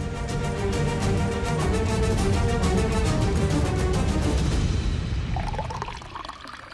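Water poured from a jug into a glass, a steady close splashing pour that fills for several seconds, then slows to a thin trickle and stops, leaving a quiet room.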